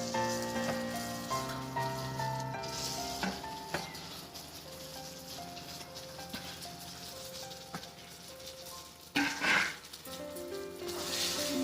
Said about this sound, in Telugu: ఇప్పుడు మామిడికాయ తురుము వేస్తున్నాను